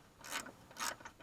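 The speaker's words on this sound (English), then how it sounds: "Sometimes if I just keep ratcheting, it'll actually extract the rest of the bolts." Ratchet wrench working bolts loose on a 1994 Dodge Dakota, heard as two brief bursts of rapid clicking close by, with no talk.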